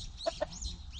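A chicken clucks twice in quick succession inside a new coop, short faint clucks over a low background hum.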